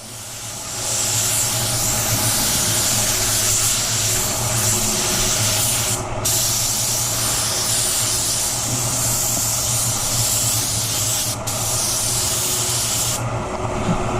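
A spray gun lays a very light first base coat of automotive paint, giving a loud, steady hiss that runs for many seconds and breaks off briefly twice before stopping, with no talking.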